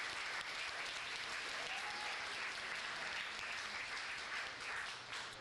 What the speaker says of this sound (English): so how about a nice round of applause for them?